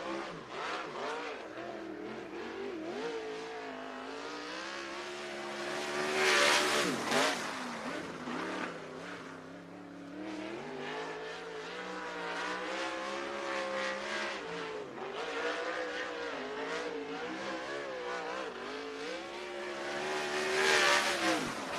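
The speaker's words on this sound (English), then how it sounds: "Next car to hit the track" A winged sprint car from the Western Sprint Tour laps the dirt oval at Sunset Speedway Park, its engine revving hard and rising and falling in pitch through the corners, surging loudest as it passes close, with no talk over it.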